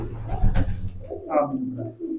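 Racing pigeons held by hand give a few close, throaty coos, while handling sounds and a sharp rustle break in at the start.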